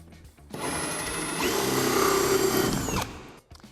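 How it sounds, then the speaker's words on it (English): A power drill with a hole saw cuts through an acrylic shower liner from behind, giving a loud, steady whirring grind of about two and a half seconds that rises in pitch slightly near its end. "Drilling from behind the liner, make sure that your supporting hand on the front of the liner is well away from the hole that you're drilling."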